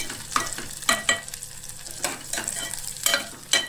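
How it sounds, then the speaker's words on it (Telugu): Onions frying for a sweet corn veg pulao in a small cooker pan, a steady sizzle broken by repeated scrapes and stirs of a spoon, close and fairly quiet with no voices. "కొద్దిగా వేపుకుందాము. ఆనియన్ వేగిపోయింది."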